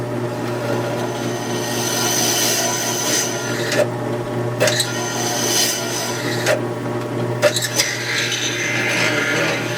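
Continuous grinding and rasping of a drill press bit biting into clamped plywood over a steady motor hum, with brief pauses and clicks as it stops.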